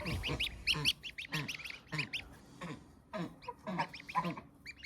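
A mother goose calling her small goslings in cool weather with repeated nasal honks in steady bursts, close and fairly loud, mixed with higher chirping calls over a soft background.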